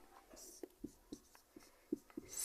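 Pen on paper while working through a class 10 arithmetic progression maths exercise: soft, close scratchy strokes and taps in an irregular rhythm, faint and alone with a quiet background.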